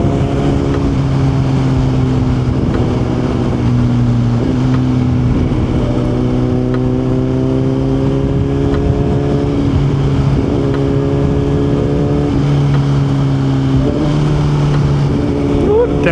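A motorcycle engine on a budget urban moto build revs and drops through downshifts, its tone stepping up and down in a loud, continuous drone, close by.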